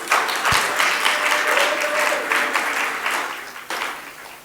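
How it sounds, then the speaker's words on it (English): An awards dinner audience breaks into steady, dense applause for the sponsors, many hands clapping together at a fairly close, even level throughout. "Would we please give a round of applause to all of our sponsors?"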